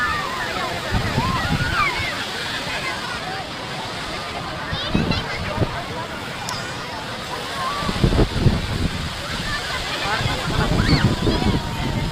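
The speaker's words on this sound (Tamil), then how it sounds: "பாருங்கள் அலை எப்படி அடிக்குது" Sea waves break and wash onto Marina beach in Chennai, a loud, continuous surging rush with bursts of surf, while people talk over the water noise.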